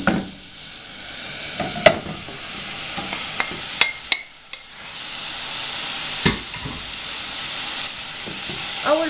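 Chopped onion softly sautéing in a pan for minced meat, a steady close sizzle broken by several sharp scrapes and stirring clatters of a spoon against the pan.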